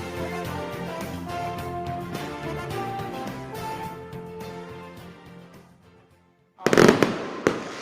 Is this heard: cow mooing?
no